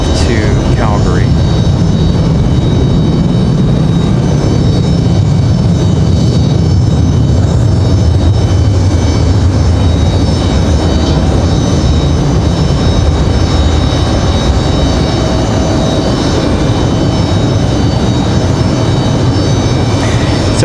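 A WestJet jet airliner departing Raleigh-Durham International Airport for Calgary, its steady, loud engine roar filling the whole stretch with broadband rumble and a faint whine, continuous and unbroken.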